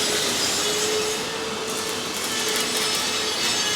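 An angle grinder with a slitting disc cuts into steel on a heavy machine riddle bucket build, a loud steady harsh grinding whine throughout, close and unbroken.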